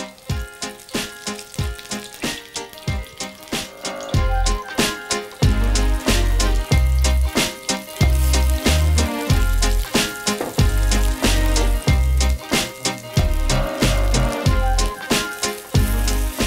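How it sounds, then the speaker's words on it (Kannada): Oats-coated food frying on a tawa griddle, an even crackling sizzle with rapid popping that runs throughout and is overlaid by loud, rhythmic background music. "ಇದನ್ನು ತವಾದಲ್ಲಿ ಇಡೋದು."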